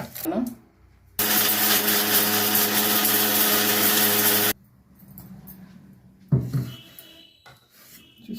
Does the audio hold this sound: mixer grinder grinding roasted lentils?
yes